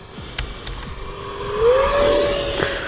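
An E-flite Viper RC electric ducted-fan jet passes by, a whining whoosh that swells and rises in pitch midway then fades, heard alone without talk.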